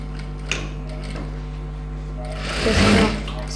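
A domestic sewing machine stitches pattu pavadai silk cloth, with a faint motor hum and click, then a louder whirring burst of rapid stitching near the end, close by.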